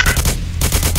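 Rapid gunfire in the Roblox game Seeking the Light, several sharp shots in quick succession, loud and close, with a short gap in the middle, no talk.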